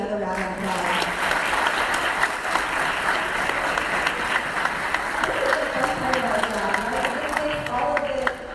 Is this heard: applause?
yes